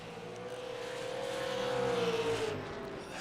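Race cars roar around an oval track, engines droning steadily and swelling louder as cars run side by side through a turn, with a faint commentator voice underneath.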